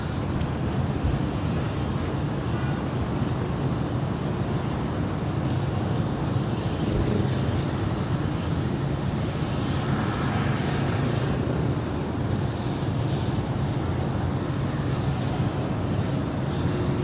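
Lufthansa Boeing 747 jet at LAX, a steady broadband engine roar with strong low rumble holding loud and constant throughout, wind noise mixed in.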